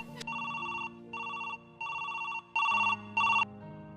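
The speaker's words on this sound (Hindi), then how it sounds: "लो ये लो, बैल जा रही है।" A telephone bell rings in a home, five loud electronic trills separated by short pauses, the last two louder, with a faint low hum underneath.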